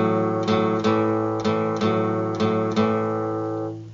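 An acoustic or electric guitar is strummed open, letting every string ring undampened. Six bright strums arrive in an even rhythm, each note sustaining into the next, close and loud, with no talking.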